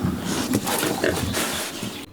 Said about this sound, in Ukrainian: Окрім корів, тримає тут ще декількох свиней.